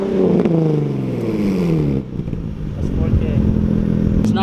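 A car fitted with a Tomei exhaust revs up and settles back, a rising and falling raspy engine note, loud and close, while people talk over it.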